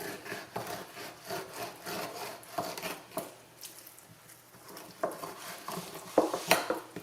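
A knife slices along a catfish fillet to separate the skin from the meat, giving a close run of short scraping and rubbing strokes that grows louder and sharper toward the end, with no talking.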